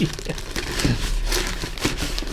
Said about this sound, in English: They're all still in a plastic bag here.